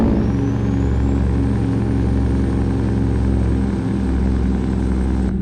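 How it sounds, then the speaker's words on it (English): A heavy truck engine in American Truck Simulator, droning low and loud under engine braking, with a steady rumble and a slowly rising whine and no voices. "let's actually do some engine braking up in here"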